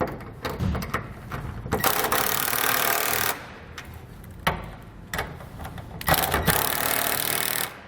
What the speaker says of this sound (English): We are going to use a 9/16 inch socket to tighten these down.